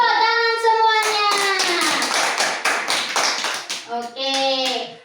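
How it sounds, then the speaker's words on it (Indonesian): A classroom of children claps hands together in a burst of rhythmic claps, with a voice or sung tones sounding before and after the clapping. "Tepuk tangan semuanya."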